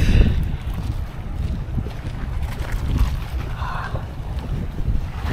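A steady low rumble of a boat motor and rushing seawater, with wind buffeting the microphone throughout, no talking.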